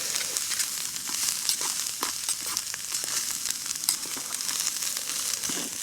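Food cooking on a camping stove at a cold wild camp on Hare Law in the Cheviot Hills, a steady close sizzle and hiss with faint crackles and stirring scrapes.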